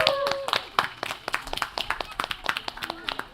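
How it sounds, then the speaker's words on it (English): Brief scattered clapping from a kindergarten group's audience at a vacation Bible school event, light and uneven hand claps mixed with children's voices and chatter. "everyone give a round of applause"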